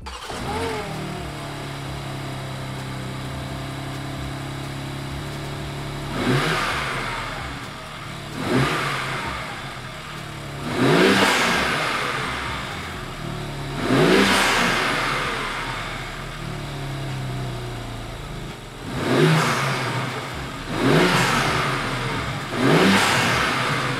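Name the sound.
BMW G80 M3 engine revving with MST intake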